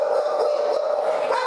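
Shelter dogs bark inside a prison, a continuous, echoing chorus of yaps and whines from several dogs filling the hard-walled space at close range.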